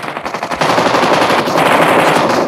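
Rapid automatic gunfire from a Nigerian Pro League esports battle-royale match, dense and continuous bursts growing louder and fuller after the first half second, with no voices heard over it.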